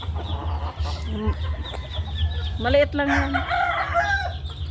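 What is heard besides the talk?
bantam chickens clucking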